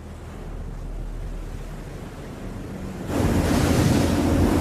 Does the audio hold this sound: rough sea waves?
yes